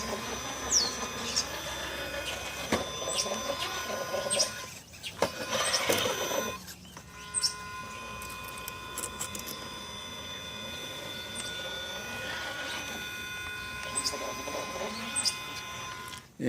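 A Puller Pro 4274S Bigblock motor drives a TRX4 RC crawler with a Killer Wasp body, its whine rising and falling in pitch over mechanical gear noise, with brief drops around the midpoint and near the end.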